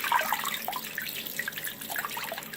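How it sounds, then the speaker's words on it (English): Tap water runs over Hunter ceiling fan parts in a sink during cleaning, a steady splashing hiss with irregular spatters, close and continuous. "run water through them,"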